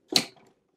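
A single sharp plastic click as the water tank seats on a Delonghi Dedica coffee machine, close and brief, with a short rattle trailing off after it.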